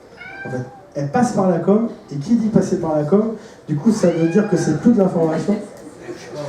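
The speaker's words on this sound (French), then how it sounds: "C'est le chat qui se réveille." A cat waking up gives a few short meows, partly buried under continuous French speech from someone talking close to the microphone.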